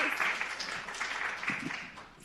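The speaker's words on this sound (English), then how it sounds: "Give a round of applause for volunteering, guys." Brief applause from a small group for a volunteer at a talk, a steady dense patter of clapping lasting a couple of seconds with faint voices mixed in.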